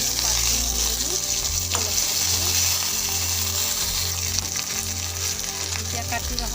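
Dry chili, a bay leaf, whole cumin and ginger leaves fry in hot oil in a wok, giving a loud, steady, close sizzle with a low hum underneath and no voices.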